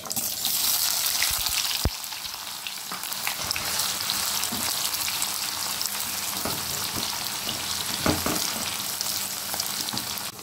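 Onion frying in hot oil with panch phoron and dried red chili, giving a loud, steady, close-up sizzle throughout with one sharp tap early on and no voices.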